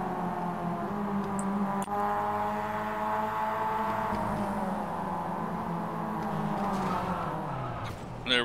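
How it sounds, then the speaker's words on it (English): Mazda MX-5 race cars on the Martinsville short oval in the iRacing simulator: a loud, continuous engine drone with shifting pitch and a faint tire squeal, carrying steadily throughout with no voices. "I hear a car right behind you."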